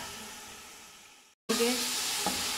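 Mutton mince sizzles loudly in a hot pan with spices, the frying cutting out for a moment, then returning louder and steadier, with a soft utensil tap near the end.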